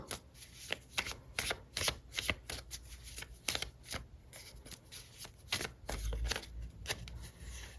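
Small tarot cards are shuffled by hand in a series of crisp riffling bursts and soft slaps, close and fairly quiet, with a card drawn near the end; nobody speaks.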